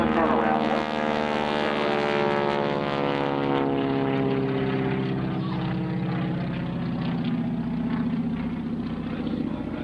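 North American T6 warbird making a low pass at a World War II Weekend airshow, a loud droning radial engine and propeller growl sustained and shifting in pitch, with an announcer talking over it.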